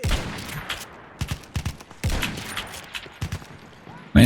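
Gunfire in a first-person shooter game played with a wireless gaming mouse, sharp shots in irregular single bursts and short volleys, fairly loud and close.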